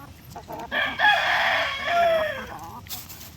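Asil and shamo chickens being fed bananas, a rooster crowing loudly and close in one drawn-out call, with brief clucks before and after.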